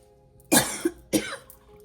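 Two sharp coughs close by, about half a second apart, the first with a small throaty catch after it.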